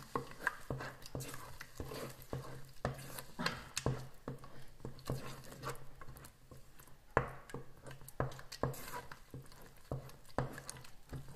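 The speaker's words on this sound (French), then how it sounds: "vous le mettez dans la marmite et non-stop, vous devrez tourner pour que ça ne colle pas" A spoon works green plantain paste in a cooking pot, giving soft, sticky squelches and scraping pats in an irregular, steady rhythm, faint and close.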